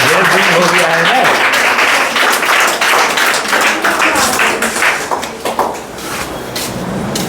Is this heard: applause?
yes